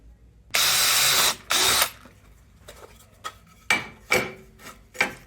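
A power drill whirs through wood in two long bursts while making a wooden toy truck, followed by several shorter scraping and rasping sounds close by.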